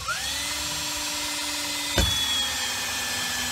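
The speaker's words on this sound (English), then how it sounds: "you mark the centre of that, and then you drill the 20mm hole," A power drill bores a 20mm hole for a homemade launch ramp, giving a steady, loud whine that holds level, with a brief knock partway through as the bit bites.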